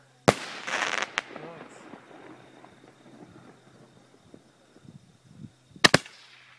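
Fireworks going off close by at night, a loud burst of crackling bangs at the start, then scattered pops and murmured voices, ending with another sharp double bang.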